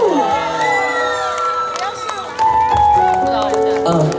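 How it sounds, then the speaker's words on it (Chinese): An audience at an evening concert in Tanzi cheers loudly, with high-pitched shrieks and shouts rising and falling over a general crowd roar for several seconds. "掌声加尖叫！"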